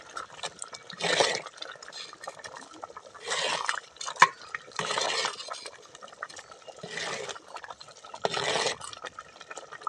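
A spoon stirs rice and lentils in a pot in several separate bursts of soft scraping and wet shuffling, with one sharp clink, quiet and close with no talk.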